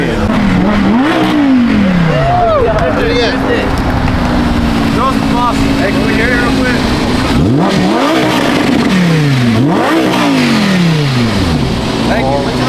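A supercar at an outdoor car show revs its engine in repeated rising and falling sweeps, loud and close, with blow-off valve whooshes between revs while people talk over it.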